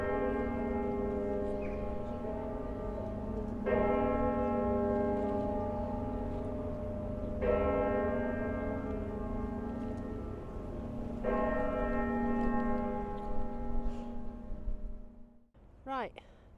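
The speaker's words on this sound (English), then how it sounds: "That's the Westminster chimes" A deep bell chime plays the Westminster chimes in a slow, steady sequence of notes with long ringing tones, in Zaragoza, Spain, with faint talk beneath.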